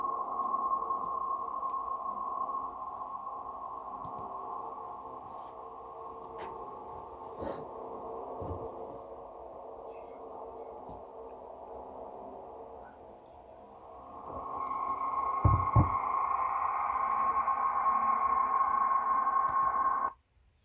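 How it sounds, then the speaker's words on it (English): Dial-up modem connecting, with a sustained electronic tone that wavers and warbles, then shifts to a brighter, harsher screech near the end before cutting off. "Sorry for the slow dial up and everything."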